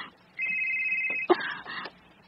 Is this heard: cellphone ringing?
yes